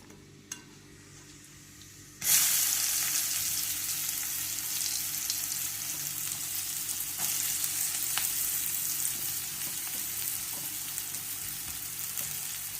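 Onion sizzling in hot oil seasoned with mustard seeds, cumin and turmeric for an egg curry, a loud steady fry that bursts in after a quiet start and crackles on continuously.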